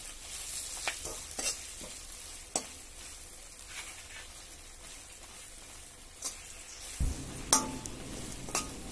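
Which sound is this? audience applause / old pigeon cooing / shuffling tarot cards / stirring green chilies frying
stirring green chilies frying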